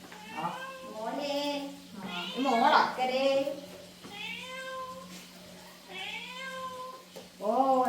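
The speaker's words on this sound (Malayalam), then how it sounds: "പൂച്ച" A cat meows repeatedly, about six drawn-out, close meows spaced a second or so apart, each rising and falling in pitch.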